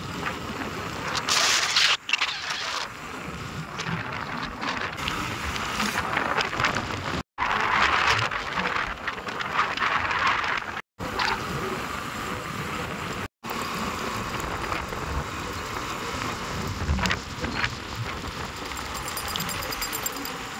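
Heavy rain pours down in Saswad, a dense steady hiss of water broken by a few short gaps, with a faint rumble beneath it and no talking.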